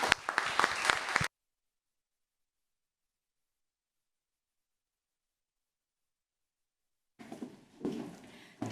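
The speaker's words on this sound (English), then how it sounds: "Once more, a huge round of applause, please, for the amazing women in the room." Audience applause for Emirati women achievers at the startAD 2022 event: a dense, close burst of clapping that stops abruptly, long silence, then crowd noise and clapping returning near the end.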